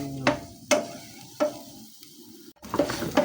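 Garlic frying in a pan gives a soft, steady sizzle, broken by a few sharp scraping knocks of a utensil stirring against the pan.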